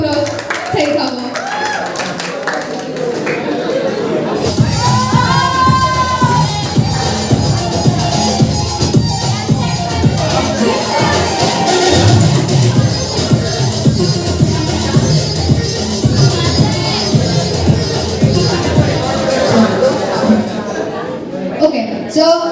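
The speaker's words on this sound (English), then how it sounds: "Give a round of applause." An audience at a school farewell event claps, with scattered cheering, amid loud talk and vocal sounds throughout, sustained and dense for the whole stretch.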